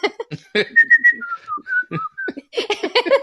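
A person whistles a lilting tune with clear sustained notes and quick runs, close and alone, no voices.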